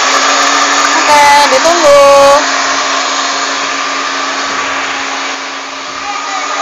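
Electric mixer whirring at full speed while beating pumpkin cake batter, a loud constant motor whine throughout, with someone speaking briefly over it near the start.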